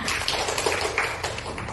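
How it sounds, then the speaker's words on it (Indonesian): Classroom children clapping their hands together, a dense, steady patter of many small claps filling the room at close range with no pauses. "Tepuk tangan."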